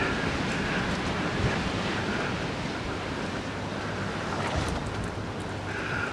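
Strong wind buffets the microphone on a sunny seaside walk in Kato Paphos, Cyprus, a constant loud roar with surf-like rushing and no voices.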